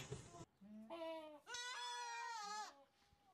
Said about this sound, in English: Nanny goat.